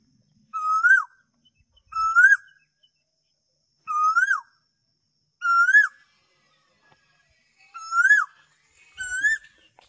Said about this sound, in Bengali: কত সুন্দর ডাকছে বুঝতে পারছো, হেবি সুন্দর কিন্তু ডাকছে কোকিলটা